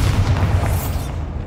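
A Bombarda spell detonates in Hogwarts Legacy on PlayStation 5, a loud, close, deep boom that rumbles briefly and then fades out.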